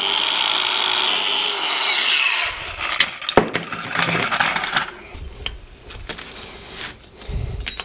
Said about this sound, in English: these pins are hardened, so I'll put a notch in them instead